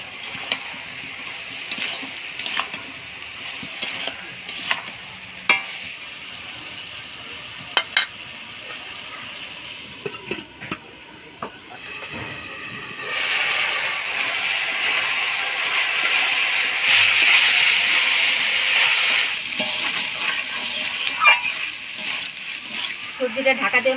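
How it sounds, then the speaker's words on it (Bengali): Vegetables with turmeric, salt and green tomatoes are stirred in a frying pan. Utensil knocks and clatter come first, then a louder, steady sizzle takes over. "এবার কাঁচা টমেটো দিয়ে নাড়াচাড়া করে ঢাকা দিয়ে দেব।"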